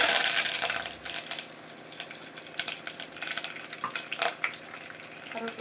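Curry leaves dropped into a hot pan of oil with mustard and fenugreek seeds for a Sankara fish curry, giving a bright crackling sizzle with scattered sharp pops and spits, close and steady, with no talking.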